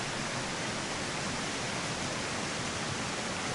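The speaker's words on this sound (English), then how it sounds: "we are now at the waterfall" A waterfall in the jungle survival game Green Hell rushes as a steady, even broadband roar, constant and fairly faint, with no voices over it.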